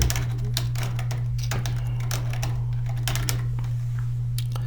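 Rapid, uneven clatter of computer keyboard typing as an assignment is entered on a school e-learning site, close and steady over a constant low electrical hum, with no speech.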